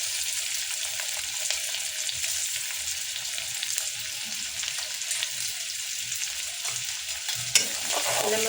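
Onion, garlic, curry leaves and chili sauté in hot oil, a loud continuous sizzle and hiss with faint stirring scrapes and a sharp clink near the end.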